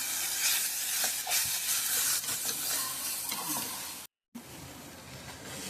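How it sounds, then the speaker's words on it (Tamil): Coconut, fennel and garlic paste sautéing in a hot pan: a steady, dense sizzle with scraping stir strokes throughout, close and loud, briefly cutting out near the end before resuming. "ஒரு நிமிஷம் நல்லா வதக்கிக்கோங்க"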